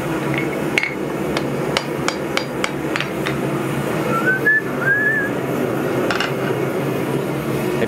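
Metallic hammer strikes on a steel shelf bracket being forged come in a quick run of sharp ringing hits, then pause while someone whistles a short tune, before a couple more distant clinks.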